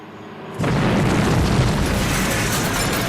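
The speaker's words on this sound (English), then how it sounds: "that's a big ass explosion" A sudden deep boom erupts after a moment of quiet, then a loud, sustained rumbling roar of a big explosion in a film that fills the rest of the clip.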